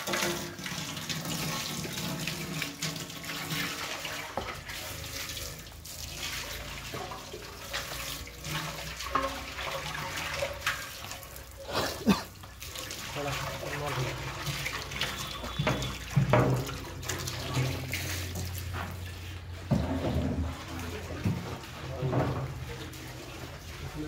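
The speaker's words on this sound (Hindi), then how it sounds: "पहले पानी डाल के जो है अच्छे से धो लो" Water poured and running into a metal cooking pot being washed, a continuous splashing flow with clanks of the pot, fairly quiet, with voices talking over parts of it.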